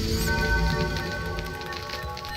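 Rain falls steadily on surfaces in The Witcher video game, an even patter and hiss under a faint low background hum, with no talking.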